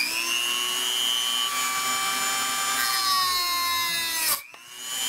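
A small power tool whines steadily as it cuts a groove into a part for an Edge 540 model airplane, a continuous high tonal drone that shifts pitch near the end before cutting off abruptly.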